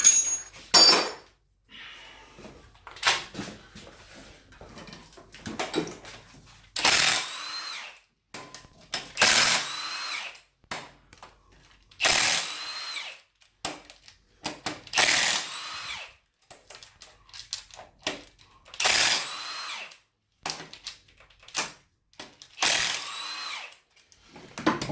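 Power tool, likely an impact or drill, working on removing the flywheel from a car during a clutch job, in repeated bursts of a few seconds each with short pauses between, fairly loud and close, with no talk.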